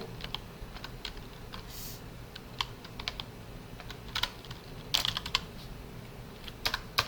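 Computer keyboard typing during a find-and-replace edit, with Ctrl+H and Ctrl+V shortcuts pressed, heard as sparse, close, crisp key clicks in irregular bursts over a quiet room hum, with no talking.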